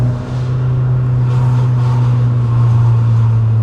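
Toyota Corolla XRS fitted with a Celica C60 transmission and limited-slip differential, accelerating in second gear, a loud steady engine drone heard from inside the car with a slight rise in pitch.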